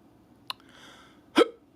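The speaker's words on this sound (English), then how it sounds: "There we go, hiccups." Two close hiccups from a man, a short click followed nearly a second later by a louder voiced gulp, in a quiet room.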